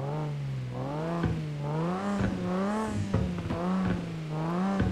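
Nissan Skyline GT-R R34 engine in American Truck Simulator, revving up and down in repeated smooth waves, loud and steady with occasional clattering, no talk.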